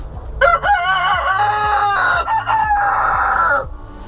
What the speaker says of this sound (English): we got some broody silkies down in there